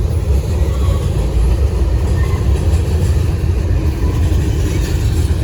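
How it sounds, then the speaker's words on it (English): A Norfolk Southern train in Gaffney, South Carolina rolls past at close range, a steady loud rumble of wheels and rail noise that holds unchanged throughout with no voices. "Now this train is on time."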